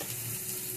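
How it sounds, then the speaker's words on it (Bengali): Spice paste and coconut milk for a Bengali prawn malai curry fry in a pan with a steady, dense sizzle, loud and close, continuous with no talking. "এইবার দিয়ে দেব নারকেলের দুধ, দিয়ে মশলাটাকে কষাবো।"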